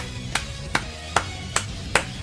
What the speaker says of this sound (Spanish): un aplauso para mi persona